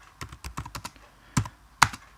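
Java code is typed on a computer keyboard in quick, uneven bursts of sharp key clicks with short pauses between them, near and fairly quiet.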